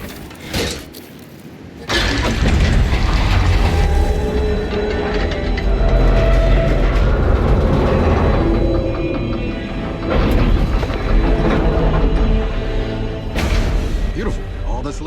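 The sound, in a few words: train moving toward the hangar, from a video game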